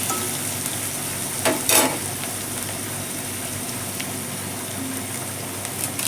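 Dried red chillies, torn into pieces, sizzle in hot oil while cooking a fenugreek-leaf and moong dal dish, with a steady frying hiss and a brief louder crackle burst partway through.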